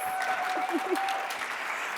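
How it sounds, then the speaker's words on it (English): Audience at an education innovation showcase applauds the panelists, a steady wash of clapping throughout, with a voice briefly heard over it. "Give them a round of applause."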